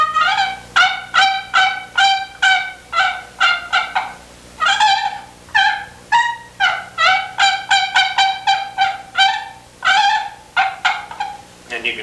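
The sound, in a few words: turkey gobbling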